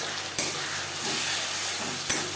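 Ground tomato, garlic and onion paste frying in a pan, a steady loud sizzle and hiss with two brief stirring scrapes.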